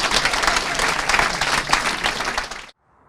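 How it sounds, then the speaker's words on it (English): Applause and cheering at a 24-hour karting race prize presentation, loud and close, clapping steadily before cutting off abruptly into near silence. "Big round of applause, please"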